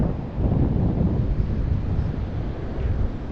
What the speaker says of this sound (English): Quite a bit of a wind here, bit of a chill.